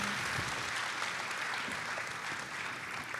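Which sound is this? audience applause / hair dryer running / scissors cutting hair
audience applause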